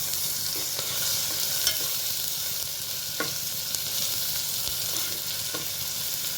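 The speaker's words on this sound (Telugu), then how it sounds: "1/2 టీ స్పూన్ పసుపు, 1 టీ స్పూన్ అల్లం వెల్లుల్లి పేస్ట్ వేసుకొని ఇలా కాస్త ఫ్రై చేయాలి" Turmeric and ginger-garlic paste frying in hot oil, a constant close sizzle and hiss broken by occasional light taps and scrapes of a stirring spoon.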